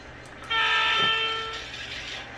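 A model locomotive's DCC sound chip plays a sustained horn tone that swells then fades over a quiet mechanical background, with no talking.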